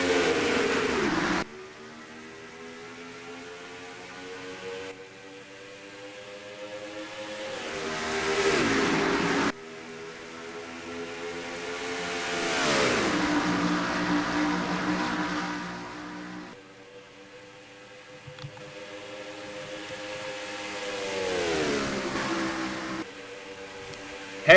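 Stock cars race at Atlanta Motor Speedway, their engines roaring past in repeated loud sweeps with falling pitch as each pack passes, separated by brief lulls, with no talk.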